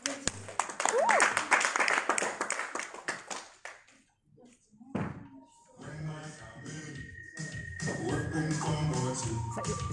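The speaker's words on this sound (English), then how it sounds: "Give a round of applause" An audience claps for a guest speaker at a disability event, dense applause that fades to a pause, then resumes under speech and a sustained tone.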